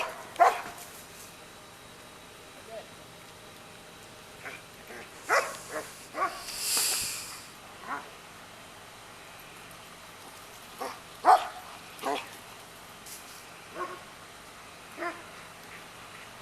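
A dog barks now and then, giving scattered short, fairly faint barks and yips at irregular intervals over a quiet background.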